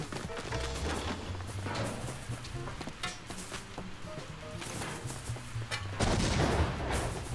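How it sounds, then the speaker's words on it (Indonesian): Explosions and blasts in the firefighting video game Embr burst repeatedly over a busy, crackling mix, with a louder bang near the end. "Itu meledak. Apa tuh yang meledak?"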